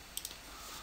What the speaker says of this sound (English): left mouse click on your ellipse tool